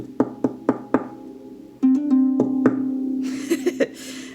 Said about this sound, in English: Some people tap on their harps for some rhythm.